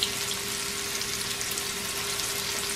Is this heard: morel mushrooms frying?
yes